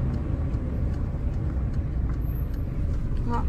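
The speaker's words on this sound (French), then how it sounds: "Dis-moi dès que tu entends la voiture vibrer." A car braking during a driving lesson, just before the clutch goes in: a steady low rumble and road noise with faint vibration, continuous and moderately quiet throughout.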